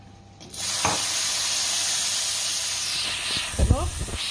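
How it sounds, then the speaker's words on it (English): A loud burst of hissing sizzle erupts as liquid hits the hot pan to deglaze it while cooking meatballs, then holds steady and fades slightly, with brief clatter and a voice near the end. "And then to deglaze the pan."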